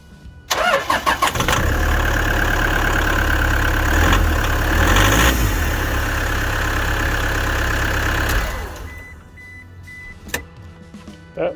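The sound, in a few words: Toyota Hiace diesel engine starting and idling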